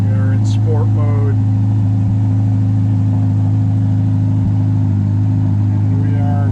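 A 2022 Ferrari Roma engine idles loud and close, a deep, even mechanical drone that holds steady throughout, with a voice speaking briefly near the start and again at the end.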